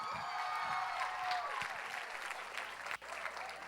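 A church congregation applauding during a revival service, a fairly soft wash of clapping that holds steady and then fades slightly, heard alone.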